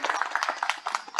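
Audience applause for the Minister of Religious Affairs at a gathering in Banjarnegara, a brief burst of close, brisk hand claps at an uneven, rapid rhythm, fairly loud and heard alone.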